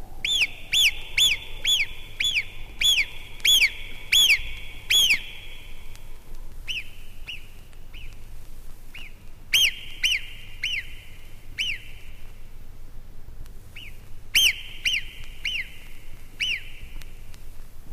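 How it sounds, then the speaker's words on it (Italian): Alpine marmots give shrill alarm whistles in an Alpine valley near the glaciers: a rapid run of piercing piping calls, then scattered single whistles, some nearer and louder, over a faint steady background. "troviamo le marmotte dall'acutissimo fischio"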